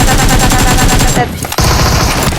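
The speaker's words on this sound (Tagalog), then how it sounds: "Nagkapalitan ng putok si Zanzo at ang Korean ang name." Loud, rapid automatic gunfire crackles in the PUBG battle-royale game as players exchange shots, with a brief lull before the bursts resume.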